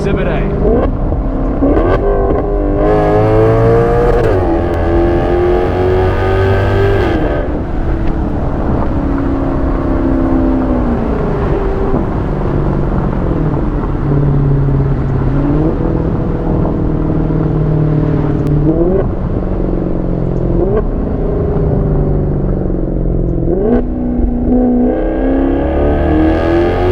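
Italian exotic sports car engine revving hard and loud, with rising and falling pitch sweeps through repeated throttle blips, sustained throughout with a voice speaking over it.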